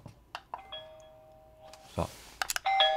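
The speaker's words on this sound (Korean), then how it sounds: "초인종을 한번 눌러볼게요. 누르면 이쪽에서 띵똥 하고 소리가 납니다." A Xiaomi Doorbell 2 Lite sounds a ding-dong chime indoors, with sustained bright tonal notes in the middle of the clip and a final chime near the end, separated by short clicks and brief handling noises.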